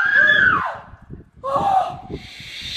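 A person screams loudly and close up from the shock of cold water, letting out two long shrill cries separated by a brief pause, with breathy noise trailing after.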